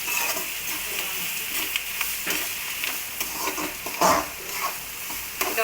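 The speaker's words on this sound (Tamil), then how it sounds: "நல்லா எல்லாம் ஒன்று சேர்கிற மாதிரி நல்லா வதக்கி ஊற்றிக்கோங்க" Onions sautéing in a pan with dried red chillies for Nallampatti chicken varuval, a steady close sizzle and frying hiss with scraping stirs and a few louder clinks of the utensil, no voices.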